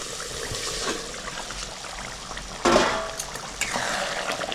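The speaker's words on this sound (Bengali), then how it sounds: "ঝোলটা ফুটে গেছে।" Prawn curry gravy for chingri macher kalia boils in a pot after the lid comes off, giving a steady close bubbling and watery simmer with a brief louder burst midway and no talk.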